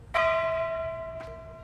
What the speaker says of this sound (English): The bell rang one last time.